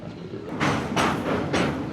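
A passenger train on an Indian rail route toward Puri rolls along the tracks, giving a close, steady rumble broken by three loud rhythmic bursts of rattling clatter as the wheels pass joints.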